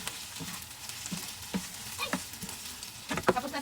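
Leftover longganisa sisig with egg fries in a pan, a soft steady sizzle broken by scattered scraping clicks of a spoon stirring, quiet and close, with no talk.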